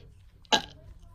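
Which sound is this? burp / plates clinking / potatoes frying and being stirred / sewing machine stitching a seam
burp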